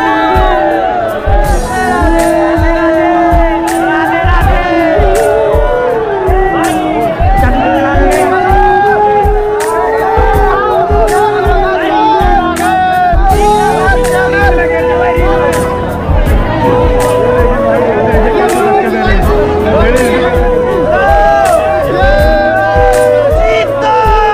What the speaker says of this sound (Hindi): आप लोग भी इस भीड़ को देखिए और इस भीड़ के मजे लीजिए